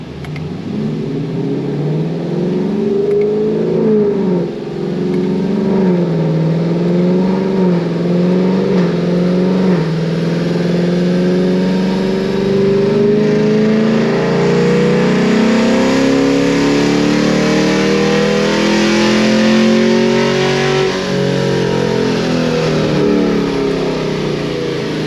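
A car engine fitted with headers revs on a dyno, loud and close, its pitch rising and falling through repeated sweeps with no talking over it.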